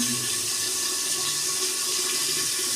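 Running water washes cashews and melon seeds, a steady close rush of tap flow that lasts the whole short stretch with no talk over it.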